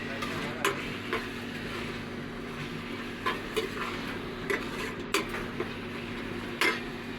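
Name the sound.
chicken boiling in a pan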